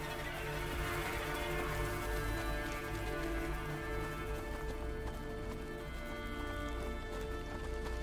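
Horse hooves clip-clopping with a brief whinny in the video game A Plague Tale: Innocence, set amid a dense, steady game soundscape of low rumble and ambience.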